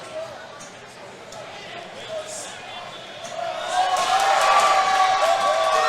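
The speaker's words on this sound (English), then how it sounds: "Listen to this crowd, guys." The crowd at a pinball tournament final grows from a murmur into loud cheering and applause, with machine sounds and a commentator talking over it.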